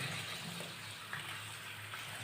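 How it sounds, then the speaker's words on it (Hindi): Hot tap water runs from a tank over vegetables such as potatoes and plums being washed, a soft continuous splashing hiss with slight variations, fairly quiet and steady throughout without voices. "तो इसको मैं गर्म पानी से धो रही हूँ यहाँ पे"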